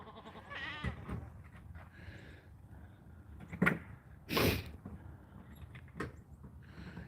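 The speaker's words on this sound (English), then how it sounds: "he's going to be a small goat, unfortunately" A small young goat named Brownie bleats on a farm, a couple of short, close calls in the middle of an otherwise quiet stretch with light rustling.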